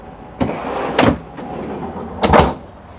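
Big chest freezer drawer in a 2018 Tiffin Phaeton 40QBH motorhome kitchen, sliding and thudding with a few distinct knocks and rolling rumbles, close and fairly loud.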